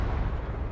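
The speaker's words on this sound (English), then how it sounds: "Oh, that's another Katusha." A Katyusha rocket explosion in a war video game roars as a dense, heavy, low rumbling blast filling the whole moment, loud and sustained, with no voices over it.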